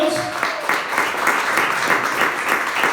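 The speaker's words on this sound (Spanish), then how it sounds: "Denle un aplauso al Señor." A church congregation breaks into applause during a Spanish-language sermon, a lively burst of clapping with some voices mixed in.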